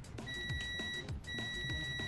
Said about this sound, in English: the buzzer itself is loud, but it is bloody slow